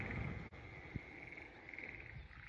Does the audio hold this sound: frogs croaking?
yes